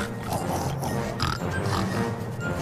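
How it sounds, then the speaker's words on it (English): Cartoon pigs oink and grunt in a burst of snorting, overlapping noises. The sound is moderately loud and continuous and sits over a busy background. "Here comes the three little pigs."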